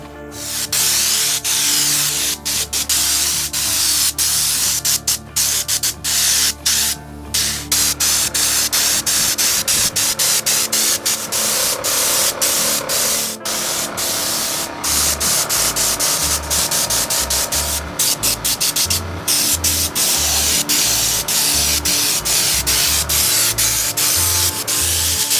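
Spray cans apply bed liner to a Mack Anthem RV hauler, a loud, steady hiss of spray that runs almost without a break, with brief cut-offs and a low rumble underneath.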